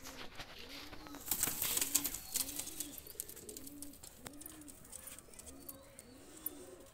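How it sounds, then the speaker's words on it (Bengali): Two released pigeons give repeated rolling coos at a steady rhythm, roughly once a second, with a burst of wing flapping and rustling early on and faint background noise throughout. "দুইটা কবুতর আমি ছেড়ে দেখাচ্ছি"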